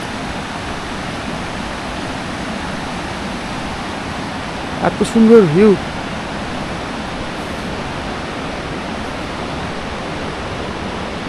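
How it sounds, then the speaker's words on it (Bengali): A fast mountain river near Manali rushes in a steady, loud broadband roar. A voice briefly speaks partway through. "আর জলটা প্রচুর স্পিডেই যাচ্ছে এখন।"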